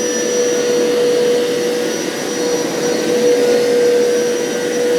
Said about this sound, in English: turn it on, start using it, you can see everything that it's sucking up into the shampooer.